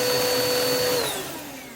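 A Eureka vacuum cleaner runs with its motor humming and brush spinning, a steady close whine that slowly drops in pitch and fades slightly toward the end.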